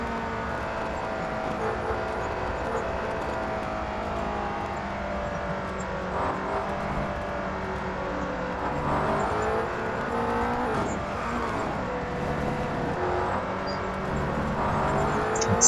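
A McLaren GTR race car engine drones at full throttle around Suzuka in Real Racing 3, a steady, continuous motor roar with shifting pitch and a brief rise near the end.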